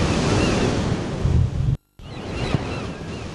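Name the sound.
sea waves washing against a pier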